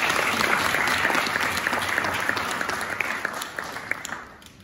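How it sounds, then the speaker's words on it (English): An audience applauds steadily at a university panel event on peace, a dense wash of clapping that carries on evenly before fading toward the end. "Please, let's give him a round of applause."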